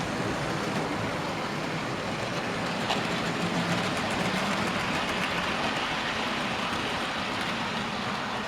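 A model train runs on a loft model railway layout, its steady rolling rumble and faint rail clatter continuing unbroken at close range with no talk.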